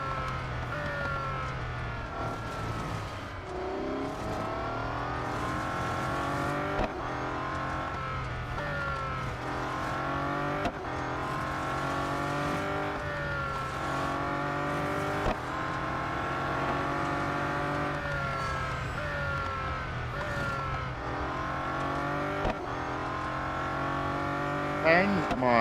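A Bugatti Centodieci racing car engine in the Real Racing 3 video game, revving hard through repeated gear shifts with rising and falling tones, continuous and loud throughout.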